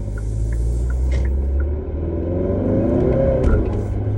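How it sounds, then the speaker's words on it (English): A Kia K5 GT with an aftermarket lower engine mount accelerates hard in third gear, the engine note rising in a loud, close, rumbling pull heard from inside the car. "That was just a little third gear pull"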